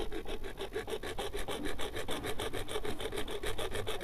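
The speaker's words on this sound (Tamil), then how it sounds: "நெக்ஸ்ட் பாத்தீங்கன்னா அதே 1 இன்ச் பைப்ல நம்ம இன்னொரு 10 cm கட் பண்ண போறோம்" A hand saw cuts through a 1 inch pipe to take off a 10 cm piece, making steady, close-up back-and-forth rasping strokes in an even rhythm with no talking.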